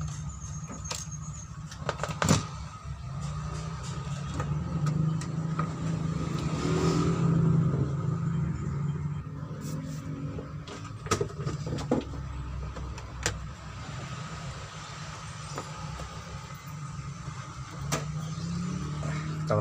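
A hot air rework tool heating a PS2 board, a soft steady airy hiss under a low hum, with scattered clicks and brief handling noises throughout.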